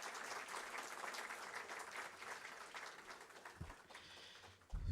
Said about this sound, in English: Please give a huge round of applause to the Honorable Minister